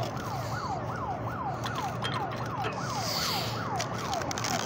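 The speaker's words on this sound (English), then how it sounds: "that siren is overkill." A nearby emergency siren wails in a fast, repeating rising-and-falling sweep, steady and fairly loud over low traffic rumble, with no voices.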